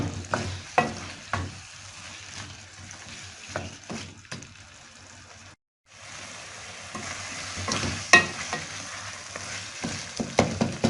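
Chicken and spinach (palak) with tomatoes and kasuri methi cook in a pot, soft simmering sizzle broken by repeated spoon stirs and scrapes, a brief silent gap midway, then louder clanks near the end.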